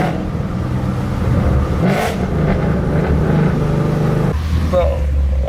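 Car fitted with long tube headers downshifting and revving, a loud engine roar rising and dropping with a gear-change break near the end, heard up close with people talking over it.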